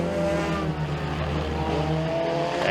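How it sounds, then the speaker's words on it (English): Four-cylinder race cars starting a heat at a motorsports park, a dense steady engine roar from many cars at once, loud and continuous with rising tonal whine and no pauses. "Green flag flies and we are racing."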